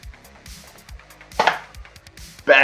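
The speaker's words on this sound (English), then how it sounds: "And we're chopping that up into, bite-sized portions, bite-sized bits." Carrot is chopped on a chopping board with a knife, giving a steady run of close, crisp knocks followed by a couple of louder, scraping strokes, with no voices.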